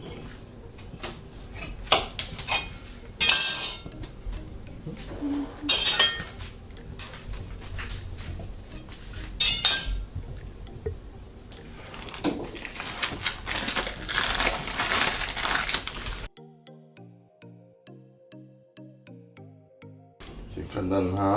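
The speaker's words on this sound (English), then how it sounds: "you can cut it into nice bite-sized pieces for breakfast" Bologna sausage being cut by knife into bite-sized pieces for breakfast, with repeated close chopping and crunching bursts under steady talk, followed near the end by a stretch of music.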